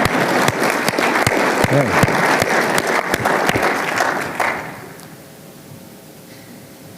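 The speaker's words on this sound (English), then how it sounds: "Let's give her a round of applause." An audience at a driver-behavior workshop claps loudly and densely for several seconds, then the applause thins and fades into quiet room tone, with a brief voice near the end.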